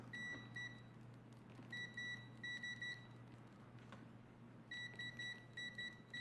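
UNI-T UT139S multimeter with stock UNI-T leads giving continuity beeps, faint high-pitched tones in short repeated bursts with gaps between, over a low steady hum, no talk.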